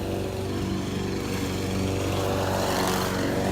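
A lawn mower cutting grass on a sunny day runs as a steady, fairly loud engine drone with no pauses.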